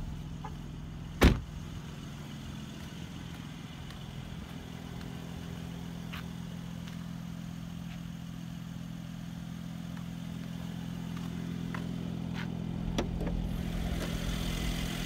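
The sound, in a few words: Mercedes-AMG SLC43 3-liter V6 bi-turbo engine running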